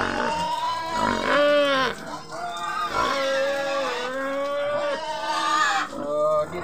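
Pigs on an organic farm give loud, repeated harmonic squeals and grunting calls that come one after another with hardly a break, close by.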